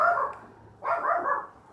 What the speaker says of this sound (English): Got the dogs barking.